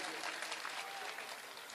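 A mushaira audience in Hardoi breaks into applause for the president, a dense, sustained wash of clapping from a large crowd heard at a distance, with some talk mixed in.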